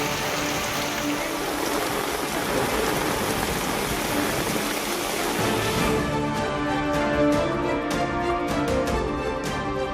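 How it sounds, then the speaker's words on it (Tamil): Moderate rain falling in Chennai, a steady dense hiss of drops on surfaces that holds evenly throughout, with sharper pattering and dripping becoming clearer toward the end. "சென்னை மற்றும் புறநகர் பகுதிகளில் மிதமான மழை."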